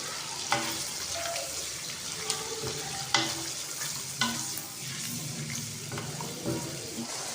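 A chicken handi mixture is stirred in a pan as it fries, giving a steady close sizzle broken by periodic scraping strokes of the spoon, with no speech.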